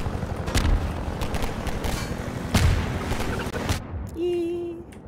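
Half-Life 2 gunfire, several heavy shots and booms landing at uneven intervals over a rumbling game background, before a brief quieter stretch with a tonal game sound.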